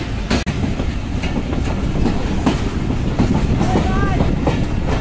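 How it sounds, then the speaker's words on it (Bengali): Banglabandha Express intercity train pulling out of Santahar Railway Junction, a steady loud rumble with rhythmic clickety-clack of wheels over rail joints and occasional sharp clanks, close by throughout. "আন্তনগর বাংলাবন্ধা এক্সপ্রেস দুপুর 3টা বাজে ছেড়ে গেল সান্তাহার রেলওয়ে জংশন"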